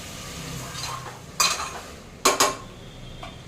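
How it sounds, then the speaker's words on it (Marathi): Chopped aubergine, potatoes and pigeon peas tipped into a cooking pot, a soft background hiss followed by three sharp clattering bursts of utensil against metal, close up. "आणि मग कापलेले वांगे, बटाटे आणि जे तुरीचे दाणे मिक्स केलेले होते ते सगळं यामध्ये घालायचं आहे."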